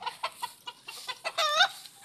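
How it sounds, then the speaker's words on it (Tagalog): Chickens and roosters of Kelso and Sweeter lines in a breeding pen cluck and call in short repeated bursts, with one louder drawn-out crowing call near the middle, close and clear with no talk. "Ito po yung mga manok ng boss ko."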